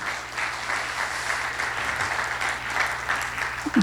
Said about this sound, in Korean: 우리 큰 박수 해주시기 바랍니다.